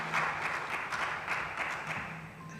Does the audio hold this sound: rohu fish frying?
no